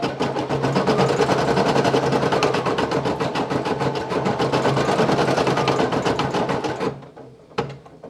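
A Brother PE800 embroidery machine stitches a patch with a fast, even mechanical chatter of needle strokes, running loudly and alone before stopping abruptly, followed by a single click.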